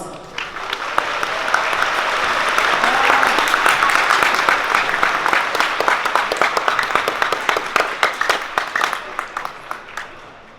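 A high school audience at Pittsburg High School bursts into applause to welcome a speaker, a close, full crowd of clapping that swells, holds, then thins into scattered claps and fades out.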